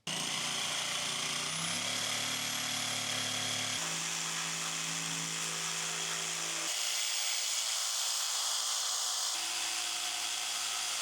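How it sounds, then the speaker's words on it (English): Jigsaw cutting through a piece of starboard clamped in a vise, a steady loud buzzing motor whine that shifts pitch as the blade load changes, running continuously throughout. "I got the piece of starboard in the vise. I used my jigsaw."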